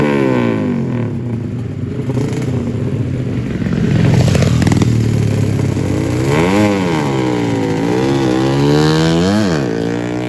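A Honda Supra motorcycle engine at a drag race in Aceh, loud and close, idling roughly then revving up and down repeatedly in rising and falling sweeps amid outdoor crowd noise.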